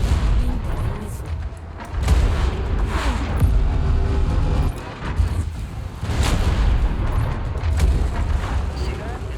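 Missile impacts and explosions in the MechWarrior 5 mech combat game, a near-continuous run of heavy booms and blasts, with deep rumbling bursts around two, five and six seconds, mixed under game voice callouts.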